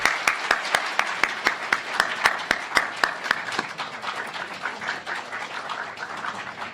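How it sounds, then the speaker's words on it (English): Applause for the judges at a law school moot court final, one nearby person clapping in a sharp steady rhythm over a wider crowd clapping, the lone beat dropping away as the room's clapping continues. "can we have a really broad round of applause for our three judges from this evening?"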